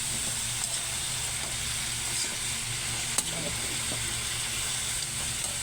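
Quail eggs are added and stirred in a sizzling pan, with a steady frying hiss, faint scrapes and an occasional sharp clink of a utensil.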